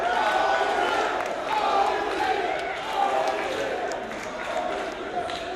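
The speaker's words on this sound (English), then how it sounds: "The crowd." A wrestling crowd at an indoor show roars loudly and continuously, a dense wall of cheering that surges in waves throughout.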